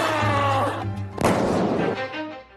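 A balloon bursts with a single sharp, loud pop midway, standing out against a background of voices and studio noise.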